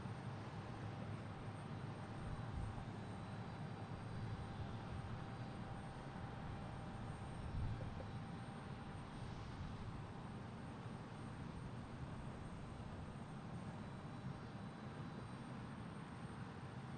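An airplane on flight 256 at Boston Logan International Airport gives a steady, broad engine roar that holds evenly throughout at a moderate distance, with a slight swell near the middle and no voices.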